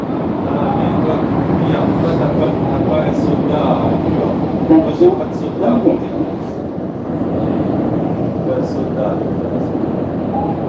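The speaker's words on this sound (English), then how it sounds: "because it's noisy, I'm not going to talk much in the metro because of the motors are loud" A Montreal metro train running with loud motors, a steady rumbling drone with rattling and whining undertones that fills the car continuously, with a brief clunk midway and no speech over it.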